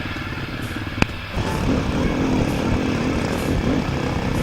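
Dirt bike engines, including a Suzuki and a Honda 250, riding a trail track, a steady loud buzzing engine drone with a sharp knock near the start and revs rising and falling, heard up close.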